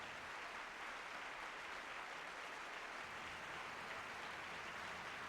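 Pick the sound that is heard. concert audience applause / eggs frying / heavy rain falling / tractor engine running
concert audience applause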